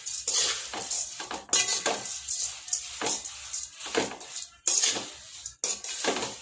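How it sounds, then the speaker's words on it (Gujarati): A spoon scrapes and clinks against a pan while nylon poha chevda is stirred and roasted on low heat, irregular metallic strokes with short pauses between them, close and clear. "ધીમા તાપે આપણે એને શેકી લઈશું અને ધીમા તાપે હલાવતા જઈશું"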